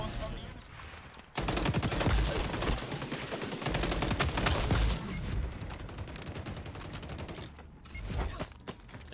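Rapid automatic gunfire from a no-recoil ACR rifle in the shooter game XDefiant rattles in dense bursts, loud and close, starting after a quiet opening and tapering off with a shorter burst near the end.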